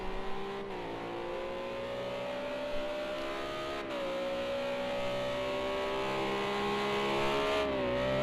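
A Renault RS 01 race car in Project Cars 2 holds a loud, steady engine whine close up, pitch dipping briefly with gear changes and rising again as it pushes through the corners.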